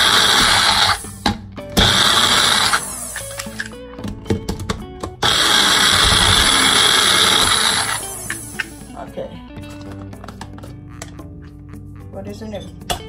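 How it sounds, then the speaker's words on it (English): A kitchen blender whirs in loud bursts while blending carrots with almond oil and extra virgin olive oil, stopping and restarting a few times, followed by quieter clatter and handling sounds. "So I just blend it up just a little bit"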